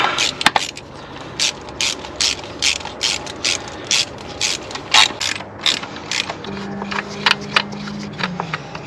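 Ratchet clicking while tightening valve cover bolts around the perimeter on a BMW N52 engine, bursts of crisp pawl clicks repeating in a steady rhythm, close up, with no talking.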